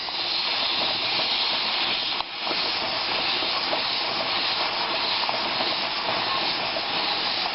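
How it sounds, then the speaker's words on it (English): Steam hisses steadily from a Mirro screw-on pressure canner while beef soup is being canned, a loud continuous broadband rush with only one brief dip partway through. "our steam has been venting for 10 minutes now"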